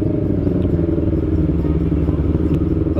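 A motorcycle riding along while hunting for a parking spot, its engine a loud, steady close-up rumble with a faint clatter and no talking.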